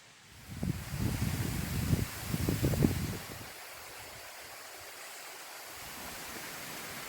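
Steady rushing water from a mossy mountain waterfall in the Ilisu area of Qakh pours continuously, with a heavier, rumbling surge in the first few seconds before settling into an even roar.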